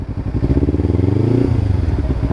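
A Kawasaki Ninja 300 with an Akrapovic exhaust, revved up close by, giving a loud, burbling motorcycle engine note that rises in pitch and then settles back down.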